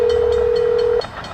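A loud, steady freight train horn blast holds for about a second, then cuts off, leaving a rumbling rail noise underneath as the train heads south out of Milford yard on the Housatonic Railroad's Maybrook line.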